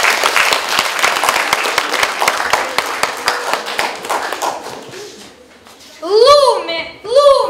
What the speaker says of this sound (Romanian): Să-i terminăm cu aplauze și le urăm succes!